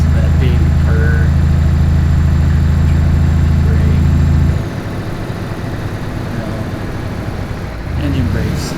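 A diesel V8 Scania truck in Euro Truck Simulator 2 holds a loud, steady, deep engine hum for about four seconds before the drone cuts away, leaving quieter background noise.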